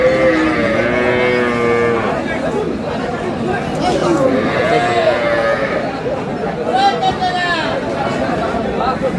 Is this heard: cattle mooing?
yes